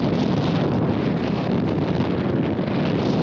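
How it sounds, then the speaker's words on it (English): Strong wind on a mountain in Snowdonia roars and buffets the microphone in a loud, steady rush with no break, and no voices over it. "Windy."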